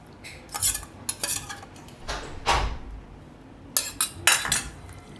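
A spoon scrapes and clinks against a bowl as yogurt is added to bottle gourd (dudhi) chutney and mixed in, with bursts of clattering strokes separated by short pauses.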